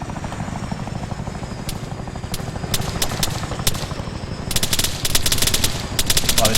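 Helicopter rotor thrum runs steadily throughout in ARMA 3, a crippled aircraft spinning on one rotor while bursts of machine-gun fire crack overhead, thickening into dense rapid volleys near the end.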